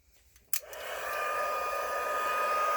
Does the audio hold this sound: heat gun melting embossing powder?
yes